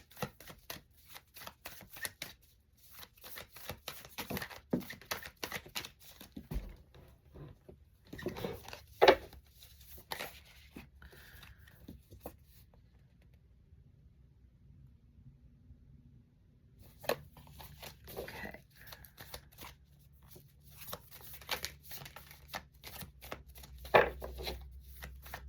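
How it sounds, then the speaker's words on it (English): Tarot cards are shuffled in quick riffling bursts and soft slaps, close by, with a quiet pause in the middle before the shuffling resumes. "I'm just going to shuffle."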